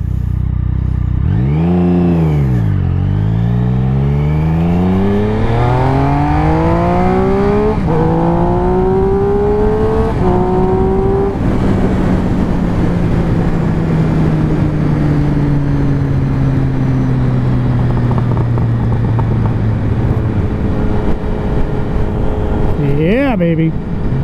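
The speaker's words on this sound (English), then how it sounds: "here's another sound test with the new exhaust" A Triumph Speed Triple motorcycle with a Competition Werkes aftermarket exhaust revs hard several times, pitch sweeping up and down through gears, then a sustained high drone that slowly falls; continuous and close, no talk.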